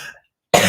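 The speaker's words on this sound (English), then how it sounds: "sorry for coughing on you" A single short cough close to the mic, abrupt and loud after a moment of silence, preceded by the fading tail of a voice.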